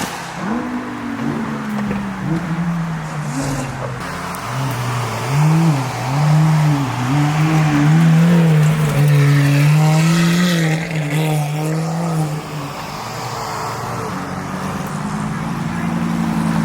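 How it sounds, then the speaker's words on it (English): A car engine revs at a car meet, loud and close, climbing and dropping in pitch through several blips before settling to an idle, with crowd chatter around it. "Your car sounds so dang good."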